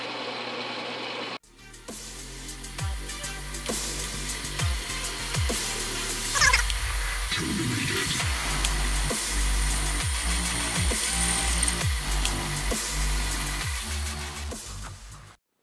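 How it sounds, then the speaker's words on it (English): A lathe cutoff tool parting a metal part for an all-metal hot end on an XYZPrinting Da Vinci 1.0A 3D printer, with a steady machine hum and repeating rhythmic ticks throughout and a brief rough scraping burst midway. "I can see where I need some more cutoff tools. I'm cutting that at about 12 thousandths high."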